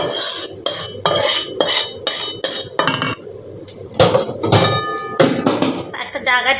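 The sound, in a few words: metal spatula pressing dhoka batter in a plate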